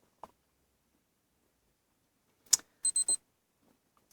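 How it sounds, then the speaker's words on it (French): An Epson Runsense SF-810 running watch gives a short, high electronic beep during data transfer: three quick tonal pulses close together, clear against near silence, after a faint click. "Donc là, on a entendu un petit bip au niveau de la montre."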